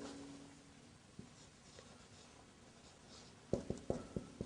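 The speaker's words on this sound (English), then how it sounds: "Maybe I should write it." Handwriting during an Arabic grammar lesson, a run of short scratchy strokes near the end after a quiet stretch with low background hum and one isolated tap.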